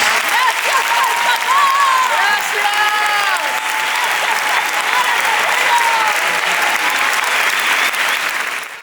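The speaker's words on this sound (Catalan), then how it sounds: "demano un aplaudiment pels vostres familiars i pels vostres amics" Sustained applause from a graduation ceremony audience for families and friends, steady and dense for nearly nine seconds, with faint voices and whistle-like tones over it before it tapers off at the end.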